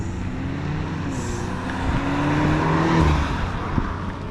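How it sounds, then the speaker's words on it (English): A turbocharged BMW engine roars during a launch, heard as a loud, continuous drone with rising pitch from inside the car, with no talk over it. "yo, the turbos. Yeah, nah, this shit's loud."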